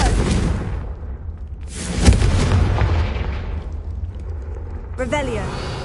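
A Confringo fire spell explodes in Hogwarts Legacy, with deep, rumbling blasts and a crackling burst near the middle, loud and close. A brief tonal game effect follows, and the low booms carry through the whole stretch.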